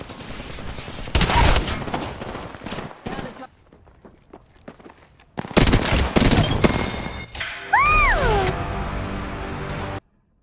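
Automatic weapon bursts and explosive impacts from a match of the battle royale shooter Apex Legends, loud and dense in two long stretches with a quieter gap between, mixed with game sound effects and synthetic tones.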